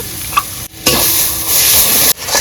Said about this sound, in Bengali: এই অনবরত নাড়তে হবে